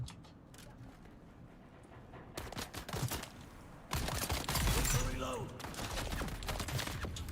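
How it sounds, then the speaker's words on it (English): Bursts of gunfire in Dune Awakening, quick rattling volleys of sharp cracks that grow louder and denser midway, close and punchy against a low background rumble. "Who's over here shooting?"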